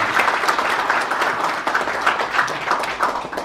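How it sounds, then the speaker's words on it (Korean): Sustained, dense applause from a large audience at a ceremony for an overseas Korean business leaders and youth leaders' convention, steady and loud throughout with no break. "다시 한번 큰 박수를 보내주시기 바랍니다"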